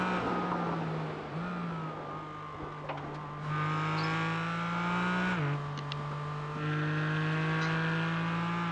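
Porsche GT4 race cars in a racing video game at Road Atlanta, engines droning steadily with rising and falling pitch as they climb the hill, with gear changes and several cars close together at a moderate level.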